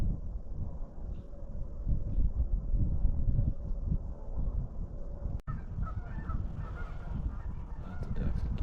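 A flock of geese honks at a distance outdoors near Mud Lake, Minnesota, the faint calls partly masked by steady wind noise on the microphone.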